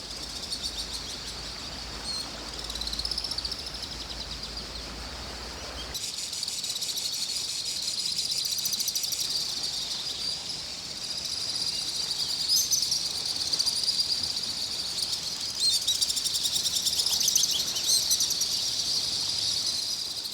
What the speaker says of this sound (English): It's an amazing soundscape with the crickets and the sea.